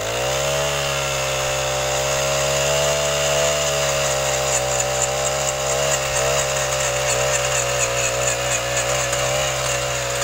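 A petrol earth auger with an 8-inch bit roars steadily as it drills into hard soil, the loud engine note rising and wavering as it labors.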